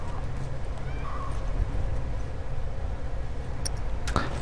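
A horse in The Last of Us Part II whinnies and shifts its hooves close by, with a steady low rumble of ambience underneath and a brief sharp sound near the end.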